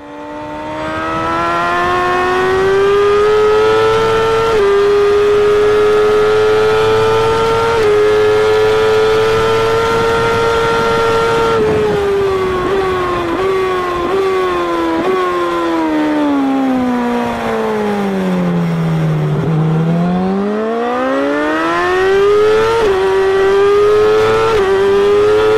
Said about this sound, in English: please pay attention to the way I open the throttle on the corner exit